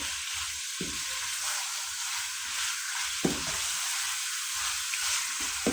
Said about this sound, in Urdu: ان مسالوں کو ڈال کر ہم 2 سے 3 منٹ تک بھنائی کریں گے۔